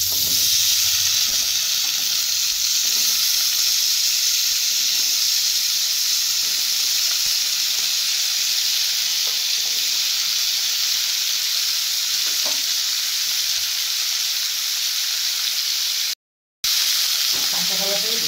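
Mixed vegetables fry in hot oil in a pan, giving a steady broadband sizzle that runs throughout, with occasional soft stirring clicks and a brief dropout near the end.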